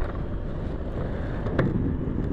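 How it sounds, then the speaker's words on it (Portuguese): Steady wind buffeting the microphone while riding a Honda Forza 125 maxi scooter alongside a lake, a continuous loud rushing roar with a low rumble throughout. "É, tá vento"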